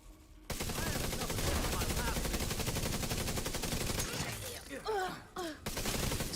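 Rapid automatic gunfire in a PvE shooter game rattles continuously for several seconds, loud and dense, then breaks into shorter bursts with a voice speaking faintly in the background.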